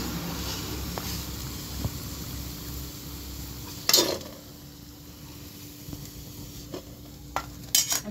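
Masoor dal pakoras frying in hot oil, with a steady background hiss broken by a few sharp metal clinks and clatters from a utensil against the pan.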